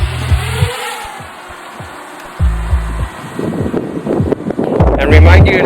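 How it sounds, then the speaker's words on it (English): Strong gusts of wind buffet the microphone in heavy roaring bursts, with a faint hiss between gusts. "it is screen recording as well, and it's so windy out here"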